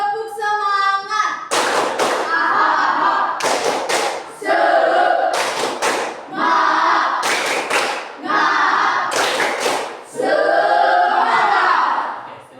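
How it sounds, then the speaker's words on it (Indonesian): A group claps out the tepuk semangat rhythmic clapping game, repeated bursts of loud, fast clapping patterns separated by short pauses, with a leader's voice and chanting between rounds. "Sekali lagi. Tepuk semangat."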